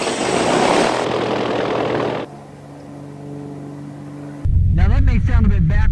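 A small propeller training airplane drones loudly nearby as a broad engine roar, fades to a quieter hum, and then a person speaks.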